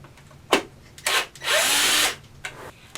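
A power drill running in reverse backs screws out of a bar stool seat, with short separate whirring bursts and one longer steady run, all close and fairly loud.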